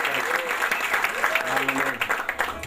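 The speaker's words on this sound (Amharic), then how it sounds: "ለሙሽሮችና ለሚዜዎች እስቲ ከዚህ በበለጠ ሞቅ ያለ ጭብጨባ እንሰጣለን።" Wedding guests applaud the bride, groom and bridesmaids at a South African wedding, a steady wash of clapping from a sizable crowd, with an officiant's voice talking over it.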